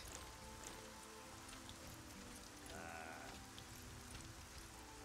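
Steady rainfall in the video game Arcania, a dense continuous patter of drops on surfaces, fairly quiet and unbroken, with no voices.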